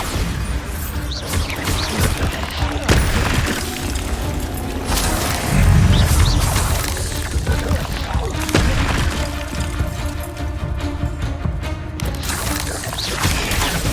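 Bombarda spell blasts in Hogwarts Legacy, a dense, loud barrage of booming explosions and crashing impacts layered over battle effects and music, with a heavy low thump around the middle.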